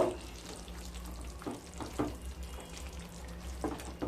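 Ghee, crushed kasuri methi and garam masala are stirred into a simmering potato curry (niramish aloo dum), giving a steady low sizzle broken by a few soft scraping strokes of the spoon, with no voices.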